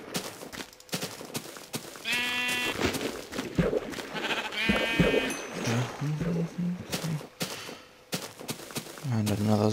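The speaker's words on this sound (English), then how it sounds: "Sheep." Sheep bleating in the video game Minecraft: two distinct wavering bleats a few seconds apart, loud and close amid game sounds, with a lower grunting mob noise near the end.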